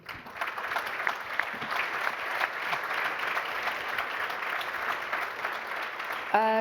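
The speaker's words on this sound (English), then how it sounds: "A great applause to you" An audience at a data center sustainability panel gives a speaker sustained applause, with many hands clapping evenly and fairly loudly for several seconds, and a voice cutting in at the very end.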